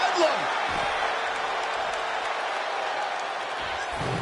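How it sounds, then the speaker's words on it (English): Arena crowd in a WWE 2K26 wrestling match, a steady broadband roar of cheering and noise sustained throughout, loud and continuous, with a few faint thuds underneath. "Look at this crowd. It's insanity in here."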